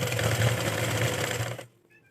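A sewing machine runs a fast, steady stitch along the edge of a blouse belt, loud and close, then cuts off abruptly near the end.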